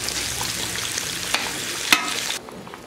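Ginger paste sizzles steadily in a hot pan during Bengali home cooking, a dense continuous fry with a couple of sharp clicks before it abruptly drops away near the end.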